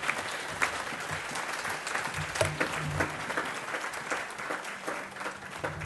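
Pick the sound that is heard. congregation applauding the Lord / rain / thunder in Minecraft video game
congregation applauding the Lord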